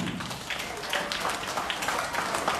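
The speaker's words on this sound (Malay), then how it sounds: "beri tepukan kepada Puan Rosla" A small group of people in a school setting claps for a teacher, a dense, brief round of applause heard fairly close.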